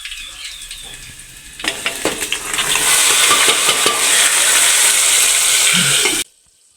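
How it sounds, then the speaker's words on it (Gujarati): Onions and tomatoes go into a pan of frying cumin and garlic; after a few metallic clinks, a loud, close sizzle rises and holds steady with stirring scrapes, then cuts off abruptly. "લસણ અત્યારે નાખે છે જીરું નાખી દીધું છે તો હવે ટમેટાના ડુંગળી નાખી દઈ"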